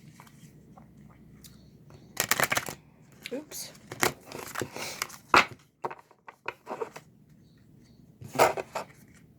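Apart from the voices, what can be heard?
shuffling oracle cards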